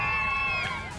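Record crowds cheering along city streets at the Perth 2012 Christmas pageant, a brief, dense wash of shouting and whoops.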